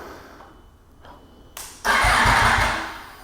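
A motorcycle fitted with a RaceFit Growler X exhaust cranks briefly and fires up, bursting into a loud, rough, close idle after a quiet start with a few clicks.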